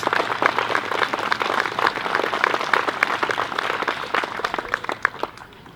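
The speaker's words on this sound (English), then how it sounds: "Please give yourself a round of applause." Audience at a coal-free declaration event in Berrima and Medway claps steadily, a lively crowd of individual hand claps that thins and fades toward the end.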